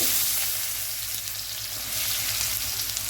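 Onions and garam masala spices sizzle steadily in hot oil in a pan, a dense close frying hiss that holds at an even level throughout with no talk.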